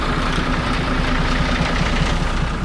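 Sempati Star bus engine running as the bus departs in congested Jakarta traffic, a loud, steady low diesel drone with a faint rhythmic throb, close and continuous without any voices.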